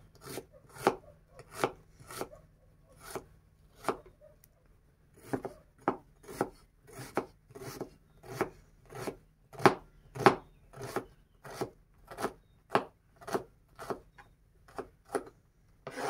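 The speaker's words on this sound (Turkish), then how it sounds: "Soğanlarımı da doğrayayım şöyle güzelce." A knife chops onions steadily on a cutting board, sharp regular knocks repeating about once or twice a second, close and clear with no talking.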